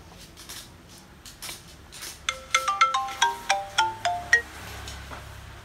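An iPhone 6 Plus plays its ringtone, a rising run of crisp, plucked-sounding melodic notes heard close up and alone, ending in a low hum.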